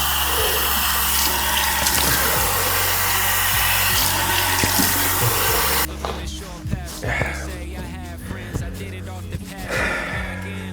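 A bathroom tap runs in a loud steady stream for several seconds before cutting off. Cold water then splashes up onto a face in uneven slaps and drips, with some breathy gasps.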